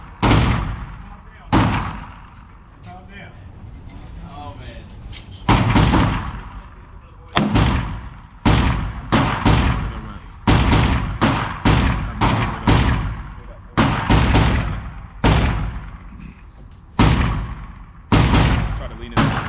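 Pistol shots crack loudly at an indoor shooting range, roughly a dozen sharp reports with echoing decay, some in quick pairs, with instruction spoken between them.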